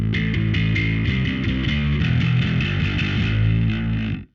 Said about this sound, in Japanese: これ非常にあれですよねドライな歪みですよね